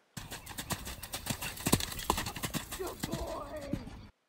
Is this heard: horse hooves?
yes